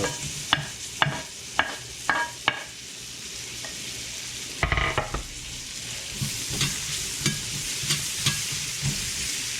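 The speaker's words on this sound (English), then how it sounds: "Put our onions in here. Let them cook up." Onions fry in a Lodge cast iron skillet, a steady sizzle under a series of sharp metal spatula scrapes and taps, with a louder burst of hissing midway as they stir.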